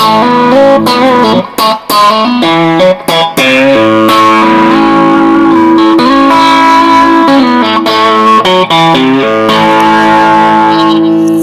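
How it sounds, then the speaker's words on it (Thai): A heavily distorted electric guitar plays loud, gritty chords and riffs with brief choppy pauses, crunching through an amp with no voices. "เสียงดีมากเสียงมันแตกตู้เลยครับ"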